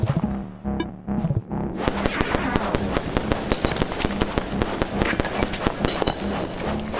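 Firecrackers go off in the video game Animal Well: a few loud opening bangs, then a rapid, dense string of sharp crackling pops that keeps going.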